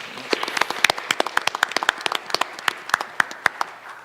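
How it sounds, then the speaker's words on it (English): An audience at a county school board meeting gives a round of applause: a short burst of crisp, rapid individual claps, close and fairly loud, with no voices. "let's give Judge Wooster and these gentlemen a round of applause"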